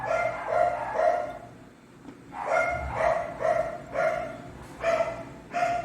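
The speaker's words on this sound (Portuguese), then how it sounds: "enquanto os cachorros estão latindo" Several dogs bark in repeated bursts of clustered woofs separated by short pauses, fairly close and moderately loud, with no talking over them.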